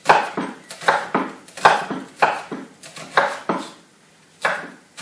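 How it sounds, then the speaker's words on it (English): A knife chops food on a board into reasonably thin slices, giving a steady series of close, crisp cuts in quick bursts with short pauses between them and no talk. "And this enables you to cut reasonably thin slices."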